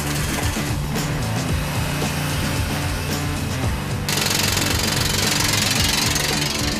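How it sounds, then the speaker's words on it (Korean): A rock drill bores into solid rock at a vertical-shaft blasting site for a tunnel in Inje, Gangwon, drilling holes for explosives. The roar is loud and continuous, with rapid hammering pulses throughout and a harsher, brighter grinding layer in the second half. "암석을 파고드는 천공기의 굉음이 귓가를 찌른다."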